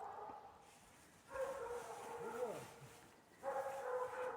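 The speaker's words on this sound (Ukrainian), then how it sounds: "Боже, там які собаки гавкають." Several dogs bark and yip in the distance, faint intermittent bursts carried over outdoor background noise, with a voice speaking nearby.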